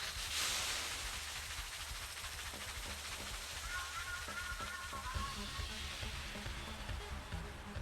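Hissing steam as water boils off in an anime scene, a faint, steady broadband hiss running throughout with a thin tonal whine drifting through the middle.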